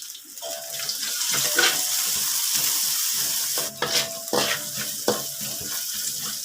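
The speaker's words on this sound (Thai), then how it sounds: "กระเทียมที่ตำไว้ เอาลงไปเจียว" Pounded garlic frying in hot oil gives a steady, close sizzle, broken by a few louder bursts of crackling and scraping stirs, with no talking.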